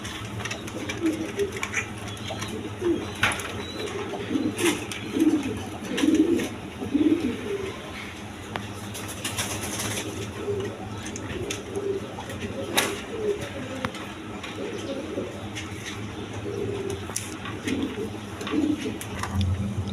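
Pigeons at a pigeon sale, including a sky-blue male, coo in low repeated murmurs throughout, with a steady hum and scattered clicks behind them and no talk over the calls.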